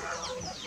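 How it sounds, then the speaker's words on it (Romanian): Chickens, including day-old chicks, cluck in a short burst close by at a sheepfold farm. "Iată și pui."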